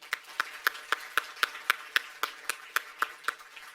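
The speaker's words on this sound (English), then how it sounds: "Let's have one more round of applause for Kelly Green and Peter Davidian." Audience at the World Autism Festival 2016 clapping in a crisp, evenly spaced rhythm, about four claps per second, each sharp and distinct, with nothing else around them.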